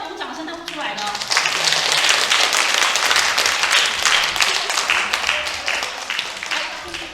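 Audience applause at a Christmas party show, a brief voice at the start giving way to a swelling, steady burst of many hands clapping that holds loud through to the end.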